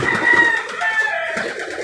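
Racing pigeons coo and murmur steadily at close range, a continuous soft bird chorus with no human voices.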